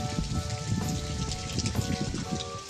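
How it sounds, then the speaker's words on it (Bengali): Rain from Cyclone Remal falls in West Bengal in a steady, dense patter of drops on surfaces. The downpour is close and continuous, with no one speaking. "আর তার সাথে হচ্ছে বৃষ্টি"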